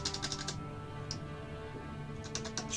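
Computer keyboard typing, short bursts of quick, light key clicks at the start and end with a single tap in between, quiet and close over a faint steady hum.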